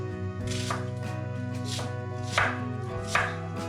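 A knife chops food on a cutting board in several firm close strokes over a steady background hum, with no voice heard.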